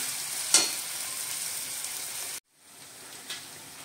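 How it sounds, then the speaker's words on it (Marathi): Chopped onion and tomato fry in a pan with a steady, close sizzle and a couple of stirring knocks, briefly cutting out and then resuming more softly. "टोमॅटो कांदा चांगला मऊ होईपर्यंत हे आपण भाजून घेऊया चांगलं"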